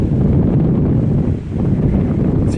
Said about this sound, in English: Nice and windy here down at the lagoon